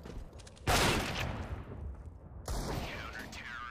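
Loud bursts of gunfire in a first-person shooter video game, two separate volleys close by over faint background game noise.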